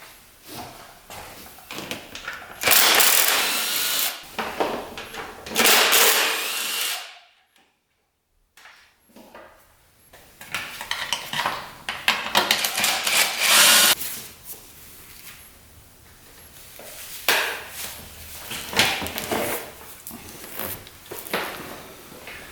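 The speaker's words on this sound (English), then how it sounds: "we're gonna get the gas tank off next" Gas tank being worked off a 2-stroke dirt bike: loud rubbing, sliding and knocking of the tank and tools against the frame in bursts, with a brief silent pause midway, close and alone without talk.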